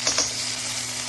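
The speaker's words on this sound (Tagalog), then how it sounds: "Pag mainit na yung wok, lagay tayo ng chili garlic oil." Chili garlic oil crackling in a hot wok, a soft steady sizzle with a couple of brief clinks near the start, no talking.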